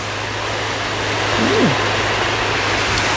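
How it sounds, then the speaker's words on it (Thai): Steady rainfall makes a continuous, even hiss outdoors with no break in intensity. "ฝนตก"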